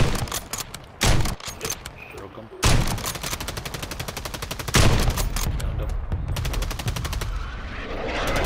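Sniper rifle and other gunfire in a Call of Duty ranked match, loud rapid bursts of automatic fire with a few sharp heavy shots standing out, close and dense, with game effects in the background.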